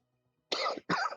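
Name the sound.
player coughing, imitating a collapsed lung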